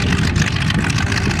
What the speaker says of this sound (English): Justin Currier starting his engine.